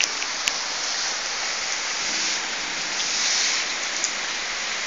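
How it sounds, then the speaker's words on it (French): Steady rainfall hisses continuously, close and fairly loud, with a few sharper drop impacts; no one speaks. "Il pleut depuis 10 minutes."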